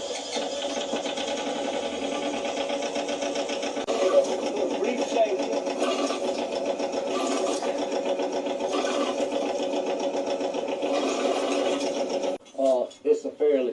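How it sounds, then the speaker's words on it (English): A tree shaker runs steadily with a buzzing, rattling mechanical drone, shaking leaves and debris out of a customer's chosen Christmas tree at a tree farm, continuous for most of the span before cutting off near the end. "we always give them a good little shake and knock any excess debris out of it, leaves or whatever"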